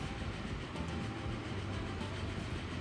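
Train running on rails in the Transport Fever 2 game, a steady dense rumble with faint clickety-clack, continuous and fairly close.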